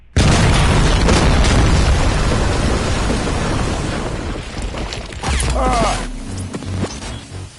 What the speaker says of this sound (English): Bomb exploded.